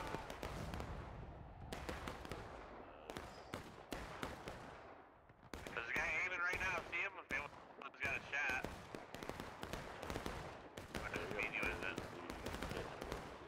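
Musket volleys in the Civil War shooter War of Rights, with sharp shots cracking in bursts and scattered pops from near and far, mixed with bursts of talk between players.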